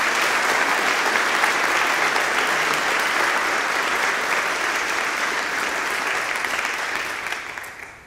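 A large audience in a lecture hall applauds steadily to welcome a pastor onto the platform, dense and loud for several seconds before tapering off at the end, with no speech over it.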